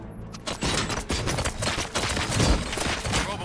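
Rapid volleys of gunfire in RoboCop: Rogue City ring out in sustained bursts over several seconds, loud and dense with sharp reports and echoing booms layered together.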